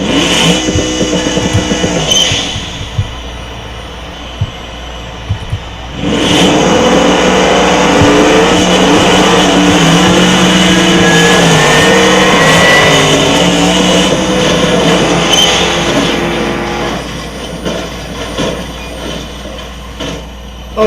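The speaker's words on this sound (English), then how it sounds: "I'm going to race the drag version of the moonhawk" Drag-tuned Moonhawk muscle car in BeamNG.drive revving and accelerating hard, a loud sustained engine roar rising in pitch through gear changes after a brief pause, with rumbling and high whine throughout.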